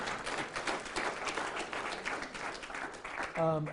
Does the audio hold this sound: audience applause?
yes